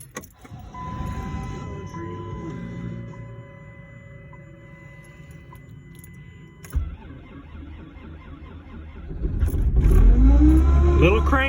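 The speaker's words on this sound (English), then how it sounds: "And we're gonna give it a cold start." Cold start of a 2005 Dodge Grand Caravan with a 3.3 liter V6 after sitting overnight unplugged: faint interior noises and a click, then the engine cranks and catches, revving up loudly and settling into a rough idle.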